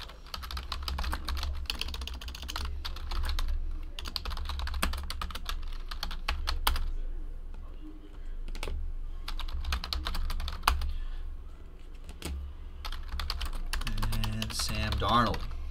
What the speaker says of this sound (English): Let's get all the names typed in.